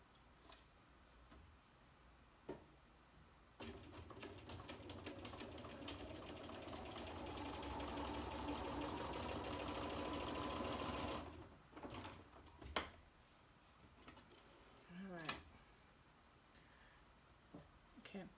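A sewing machine stitches quilt pieces along a diagonal line in a quick, steady whirring run that swells for several seconds before stopping, followed by scattered handling clicks and a faint voice.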